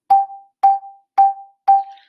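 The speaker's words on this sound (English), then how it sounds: "that's how you get a stopped sound on a chime." Four separate strikes on a handbell chime, each damped by a finger over the slot, produce short, clear metallic dings with quick decay, evenly spaced and close.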